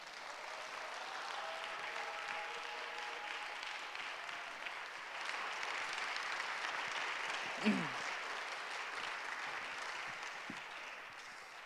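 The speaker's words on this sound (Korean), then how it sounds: "우리 환영하는 박수와 함성으로 우리 목사님을 맞이하도록 하겠습니다" A church congregation at a young adults' worship service welcomes the pastor with steady, fairly distant applause and a low murmur of voices that carries on throughout, with a brief cheer-like voice around the middle.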